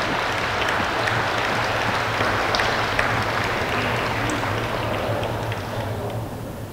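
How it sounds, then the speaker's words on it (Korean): A church congregation at a festival worship service gives loud, sustained applause to welcome standing young adults, with a dense, even wash of many hands clapping and a low hum underneath. "큰 박수로 환영합니다"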